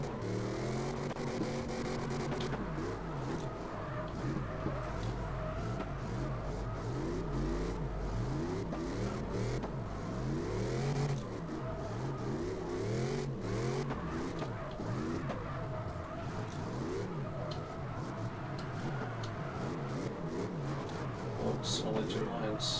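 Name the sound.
car engine revving while drifting in CarX Drift Racing Online 2 video game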